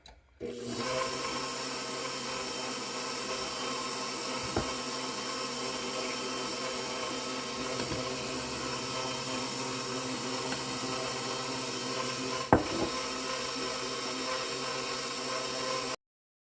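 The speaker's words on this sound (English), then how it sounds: "We'll raise this up and we'll start our mixer." A stand mixer kneads bread dough with flour for a cherry swirl loaf, giving a steady, continuous motor whir and rumble throughout, with a brief knock near the end and no talking.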